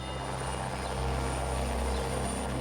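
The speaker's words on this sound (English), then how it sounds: "he made the unusual and miraculous decision to have Ed transported to the hospital by a life flight helicopter" A life flight medical helicopter gives off a steady, loud rotor and engine drone, a continuous low throbbing rumble with a faint whine on top, heard alone without talk.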